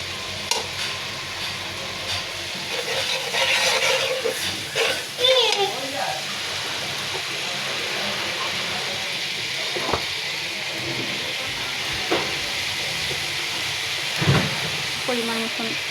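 Chili leaves frying in a pan with turmeric and salt, a continuous sizzle and hiss broken by scraping stirs of a utensil, close up and steady.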